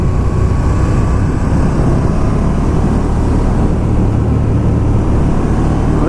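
A 2019 KTM 1290 Super Duke R motorcycle ridden along small country roads, its engine giving a steady, loud low rumble with heavy wind buffeting throughout, continuous and unbroken.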